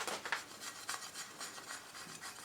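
Hand rubbing a thick five-coat Plasti Dip rubber-coated surface, faint close squeaky scrubbing strokes in a loose repeating rhythm.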